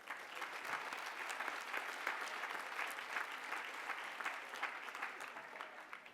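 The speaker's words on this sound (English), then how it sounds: "please join me in a round of applause for Derek Wallace." Audience at an award and diploma ceremony applauding steadily, a dense even patter of many hands clapping that holds at a moderate level with no voices over it.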